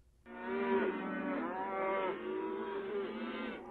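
Cattle moo in Florida's DeSoto County cattle country: one long, drawn-out bovine call rises and wavers for over three seconds, close and clear, with no talking.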